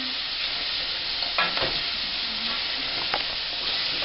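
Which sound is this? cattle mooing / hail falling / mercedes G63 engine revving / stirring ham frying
stirring ham frying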